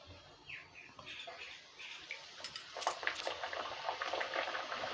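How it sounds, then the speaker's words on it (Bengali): Sweet puris fry in hot oil with a soft bubbling sizzle that builds into louder crackling pops toward the end, fairly close with no talk. "বন্ধুরা দেখেন ওগুলো ভেজে নিয়েছি, আর এগুলো ভাজছি।"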